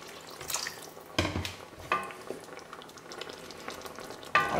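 A spoon stirs chicken mafé in a pot over a steady low sizzle, with a few distinct scraping strokes spaced a second or so apart, close and moderately loud, and no voices.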